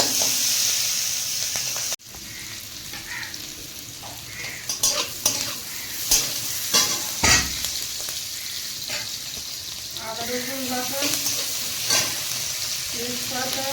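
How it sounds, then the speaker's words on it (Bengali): Onions fry in a pan with a continuous close sizzle, broken by several sharp scraping stirs and clatters of a utensil against the pan. "পেঁয়াজগুলো একটু লাল লাল করে ভেজে নেবো"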